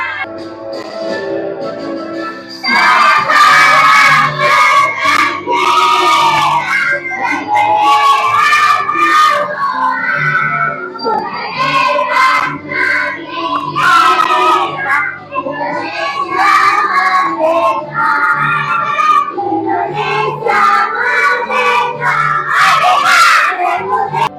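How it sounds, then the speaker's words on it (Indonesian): A classroom of children singing the song Sorak-sorak Bergembira together, loud and steady after a short quiet start, their voices filling the room for the full stretch. "kita akan menyanyikan lagu Sorak-sorak bergembira"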